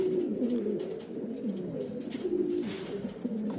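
Pigeons coo in low, rolling, repeated calls from a loft, several birds overlapping in a continuous murmur, near and moderately loud, with faint rustles and no talking.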